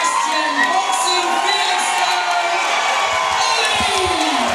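A boxing crowd cheers loudly and continuously for Ollie Carragher at a live fight night, with whoops and shouts throughout and an announcer's voice over the noise.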